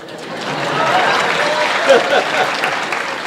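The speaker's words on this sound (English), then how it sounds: "you can applaud the Arlington" Theatre audience at the Arlington applauds during a film festival tribute, steady dense clapping filling the room, loud and close, with a voice speaking over it.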